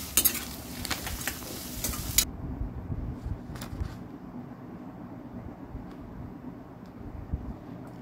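Ginger and chopped garlic sautéing in a pan, with a soft, steady sizzle and occasional stirring scrapes, brighter and busier at first before settling into a quieter, continuous fry.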